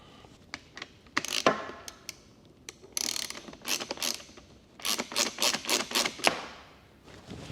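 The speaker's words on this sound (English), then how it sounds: "Finish tightening that screw down there." A screw being tightened on a Honda Transalp hand guard, heard as a close series of sharp ratcheting clicks, some isolated and some in quick bursts.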